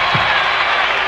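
A basketball arena crowd at the 1988 NCAA championship game, Oklahoma against Kansas, reacts to a changed call with a steady roar of cheering and applause that holds loud and even throughout.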